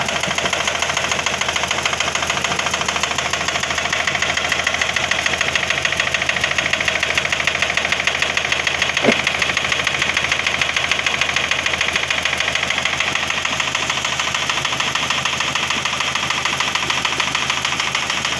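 A Toyota Vios engine idles with a steady rhythmic knocking, a continuous loud mechanical chatter close by that holds unchanged throughout, with no talking.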